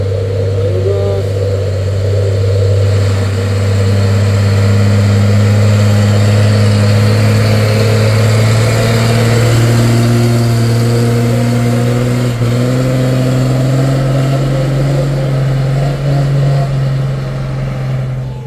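A truck's engine drones and revs continuously on a hillside road during recovery of a crashed truck with a bent chassis, loud and close, pitch slowly climbing and holding steady throughout.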